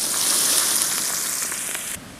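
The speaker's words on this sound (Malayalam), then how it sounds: "കുറച്ച് തിളച്ച എണ്ണയിലേക്ക് ഉള്ളി ചേർത്ത് കൊടുക്കാം" Shallots tossed into hot oil for a thattukada-style chicken fry sizzle in a bright, steady, close hiss that eases off slightly before cutting away.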